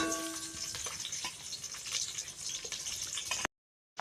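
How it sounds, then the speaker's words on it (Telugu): Chillies, onion, cloves and cardamom frying in oil in a pan for a Telangana-style goat head bone curry, with a steady close sizzle and crackle throughout before cutting out abruptly near the end. "ఇవో లవంగాలు ఏలకులు వేస్తున్నా చూడండి వేగుతున్నాయి ఇంకా బాగా వేగాలి"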